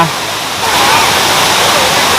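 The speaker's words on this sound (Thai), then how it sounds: "ว้าวมีน้ำตกด้วย" A waterfall at a Thai temple grounds where fish are fed gives off a loud, steady rushing roar of falling water, constant throughout and close by.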